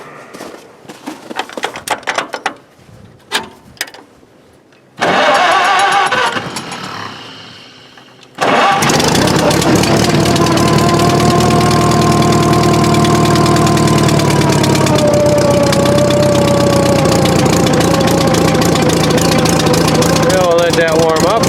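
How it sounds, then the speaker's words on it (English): An old tractor engine cranks over in short sputtering bursts, then catches and settles into a loud, steady idle that runs close by and continuous for the rest of the clip. "I think this tractor will start."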